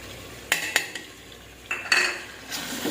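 Spoon scraping and clinking against a pot while meat curry is stirred with korma masala, for an aloo gosht dish; a few sharp metallic taps and scrapes, close and without talk.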